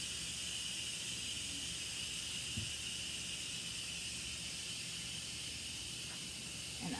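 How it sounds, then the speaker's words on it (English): A pressure cooker releases steam in a faint, continuous airy hiss that stays steady from start to finish with little else around it. "I've already let some of the steam off, you release the pressure."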